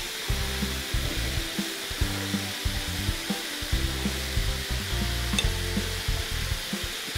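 Ingredients for a Franc-Comtois salad sautéing in a pan, a continuous moderate sizzle with rhythmic rubbing and stirring strokes repeating every second or so.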